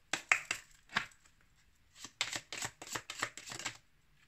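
Oracle cards for lovers being shuffled by hand, a series of crisp riffling bursts that pause, then run in quick, close succession, up front and alone with no talking.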